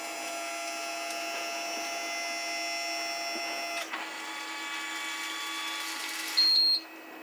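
A Modiwell dry flush toilet runs its bag-sealing cycle: a steady mechanical whir with tonal motor hum that shifts pitch midway, then a brief louder high whine near the end, close and continuous with no talking.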